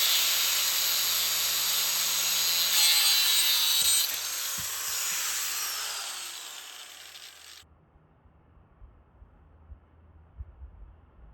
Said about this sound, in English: I'm just gonna weld one arm onto here so we can support this